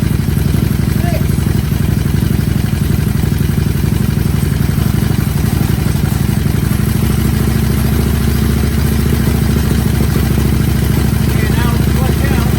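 Aprilia Caponord motorcycle engine running close and loud while being shifted through its gears during clutch work, a steady low drone with a mechanical clatter that continues evenly throughout.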